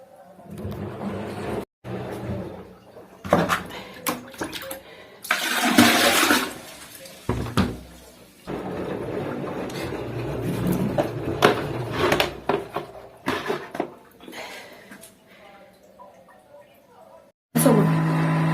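A washing machine draining dirty water during a cleaning cycle, gushing and splashing in uneven surges with clunks in between, while a person talks over it.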